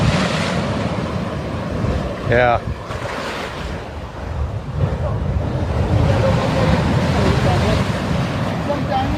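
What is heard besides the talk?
rough sea waves crashing near lighthouse rocks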